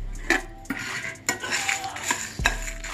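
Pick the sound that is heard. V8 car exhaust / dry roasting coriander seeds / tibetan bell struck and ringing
dry roasting coriander seeds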